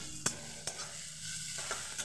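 Thinly sliced onion frying with a little sugar in a pan, a steady sizzle broken by a few sharp clicks of stirring, close and fairly loud with no talking.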